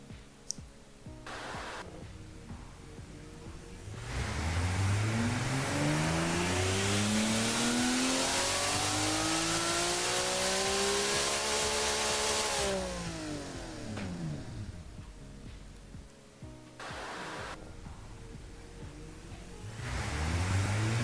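A 3-litre engine in the video game Automation revs up steadily through a long, rising dyno pull, holds high revs, then winds back down before idling and blipping again.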